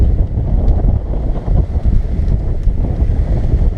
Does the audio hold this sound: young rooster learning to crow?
no